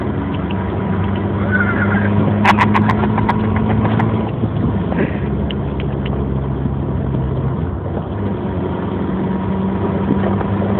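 A car engine idling at a steady, loud, low drone close by, with a few faint clicks and knocks over it and no talk.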